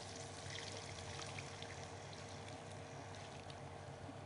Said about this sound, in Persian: ولی حال نوبت از است که کمی آب جوش اضافه کنیم